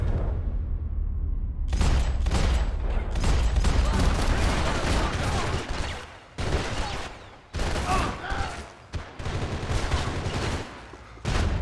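Sustained bursts of automatic gunfire from a Max Payne 3 firefight, loud and dense, with brief pauses between volleys and near-constant shooting throughout.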